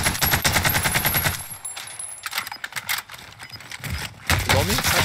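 Automatic M4A1 rifle fire in the shooter game Warzone: rapid rattling bursts, loud and close at the start, then scattered shots and clatter mixed under overlapping chatter from several players.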